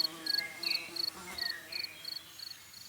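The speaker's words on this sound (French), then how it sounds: "Le joyeux tintamarre stridulant des grillons et criquets se mêle au bourdonnement de quelques insectes volants." Crickets and grasshoppers stridulate in rapid repeating pulse bursts, about eight evenly spaced chirp groups, with a faint buzz of flying insects beneath; moderately near and steady, a quiet outdoor field with no voices.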